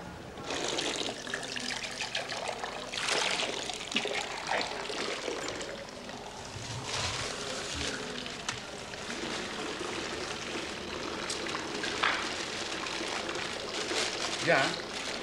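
Hot mineral water runs and splashes into a bath, a continuous pouring trickle with occasional louder gushes, while someone talks over it.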